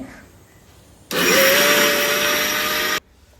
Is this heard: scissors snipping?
no